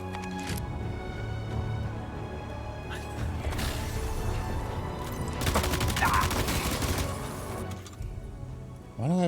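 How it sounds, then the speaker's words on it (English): Assault rifle bursts in the video game Death Stranding 2, rapid gunfire and fusillade-like cracks mixed with crashes and game sounds over several seconds, loud and busy. "Why do I have an assault rifle?"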